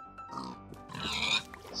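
A pig grunts and oinks in Minecraft, a few close, nasal snorts and squeals alone over soft game ambience.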